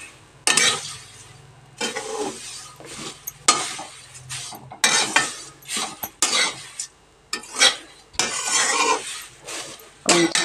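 Flattened rice (atukulu) being stirred and fried in a pan as an evening snack, with irregular bursts of a spoon scraping and clattering against the metal over a faint sizzle, close and alone with no talking.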